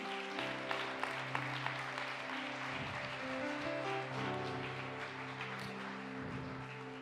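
A church congregation gives steady applause during a sermon, soft and somewhat distant, blended with sustained background music throughout.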